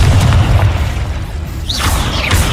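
The Confringo fire spell bursts in Hogwarts Legacy with a loud, deep boom and rumbling blast, followed by rising whooshing magical effects, close and dense, no talking.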